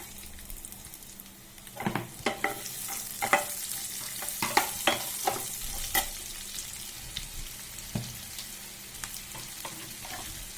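Onion fries in a pan for a prawn and fish curry, a close, continuous sizzle under clusters of scraping, clattering stirs that come in uneven bursts, with no voices.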